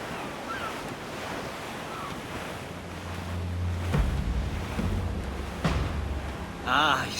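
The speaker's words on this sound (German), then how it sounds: "Es weht ein steifer Wind." Strong wind and surging sea waves around a sailing ship in the video game Assassin's Creed IV, a steady roaring wash with swells and a few louder gusts, continuous from start to end.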